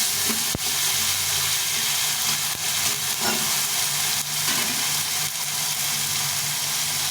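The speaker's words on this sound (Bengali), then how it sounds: "মশলাটা ভাজা ভাজা হয়ে গেছে এখন আমি টমেটো দিয়ে দেব এখানে" Chopped tomato frying in spice paste makes a loud, continuous sizzle and hiss, with a few sharp ticks and brief stirring scrapes, close by and with no talking.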